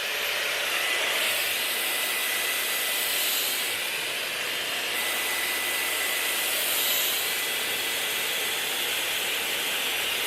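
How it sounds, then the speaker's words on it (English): A steady, loud whooshing roar of a Shark hair dryer blows continuously, broad and airy, with slight shifts in pitch as it moves. "I have my Shark dryer, and I'm just gonna hold the dryer to my edges to set it."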